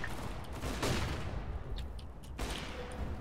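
Gunfire in CS:GO, with dense bursts of shots and rattling fusillade over a loud, busy background, the sharpest volleys near the start and toward the end.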